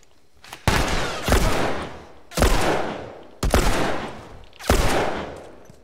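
Four loud rifle shots in The Last of Us ring out at a steady, spaced rhythm, each a sharp close blast followed by a long decaying echo, with no talking.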